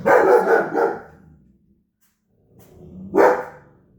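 A dog barks in a quick burst of several loud, close barks, then a pause before one more sharp bark.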